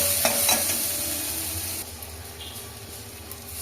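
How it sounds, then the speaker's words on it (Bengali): A spice paste with chili powder sizzles and fries in oil in a pan, with scraping stirring strokes over a steady hiss, close and moderately loud. "মশলাটা পেস্ট করা ছিল সেটা দিয়ে দিল লঙ্কা গুঁড়ো ভালোভাবে কষিয়ে নেবে"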